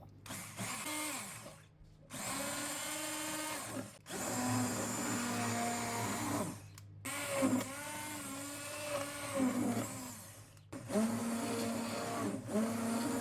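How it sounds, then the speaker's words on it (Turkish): A blender purees boiled apricots in several long bursts with short pauses between, its motor whirring loudly and changing pitch as the contents churn. "Şimdi blenderdan geçireceğim."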